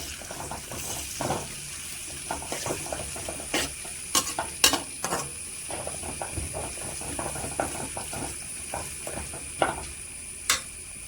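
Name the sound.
ginger garlic paste stirred into sautéed onions in pan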